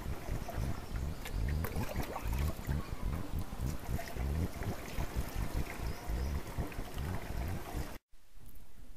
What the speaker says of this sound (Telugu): కలిపిన నీటిని స్పేర్లో పోసుకోవాలి.